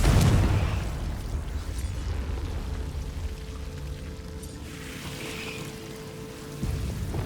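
In Hogwarts Legacy the Confringo blasting spell goes off as a loud, rumbling burst at the start, then settles into a long low roar and crackle that fades slowly, with no one speaking.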